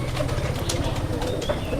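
A white male local Rajshahi giribaz pigeon coos close by, with low murmuring calls over a steady background rumble.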